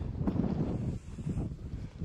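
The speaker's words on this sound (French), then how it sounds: "Au sommet, c'est venteux." Wind gusts across a snowy mountain summit during a splitboarding outing, a steady low rushing roar buffeting the microphone for about two seconds, with no voices.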